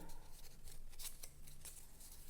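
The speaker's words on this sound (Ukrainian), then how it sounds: "тепер беремо ножиці. І розрізаємо першу нашу смужечку по лінії." Scissors cut through a paper strip, a few faint, crisp snips close by in an otherwise quiet room.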